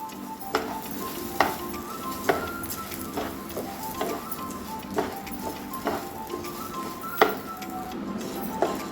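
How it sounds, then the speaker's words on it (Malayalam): Rice dry-roasted in a pan for sweet rice balls, stirred until brown, making a steady rhythmic series of scraping and clinking strokes about once a second over a soft crackle, with no speech. "ഇത് നമുക്ക് നല്ല ബ്രൗൺ ആവണ വരെ ഒരു എട്ട് പത്ത് മിനിറ്റ് നേരം ഇളക്കിയിട്ട് ഒന്ന് വറുത്തെടുക്കണം"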